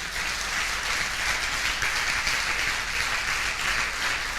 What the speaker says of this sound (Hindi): इनको तो ताली बजाई दो भाई